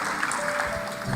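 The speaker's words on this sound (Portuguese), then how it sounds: "Uma salva de palmas para o Borba." A church audience claps together in a brief burst of applause, a dense patter of many hands heard throughout.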